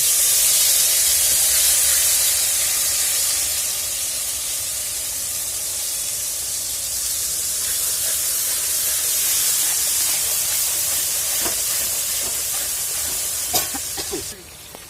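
White cumin seeds and bay leaves sizzle in hot oil, a steady bright frying hiss that holds throughout, close and fairly loud, with a few clinks near the end.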